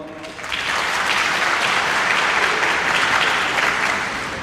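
Applause rises quickly and swells from a graduation ceremony audience honoring the lecturing staff, many hands clapping together at full strength before tapering slightly at the close.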